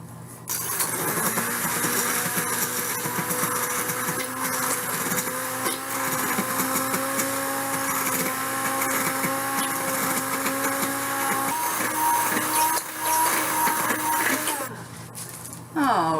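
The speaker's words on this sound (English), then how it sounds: "I like to use the hand blender." A hand blender whirs steadily as it emulsifies melted chocolate with cannabutter, a loud continuous motor drone with a shifting pitch, running for most of the clip and stopping briefly near the end.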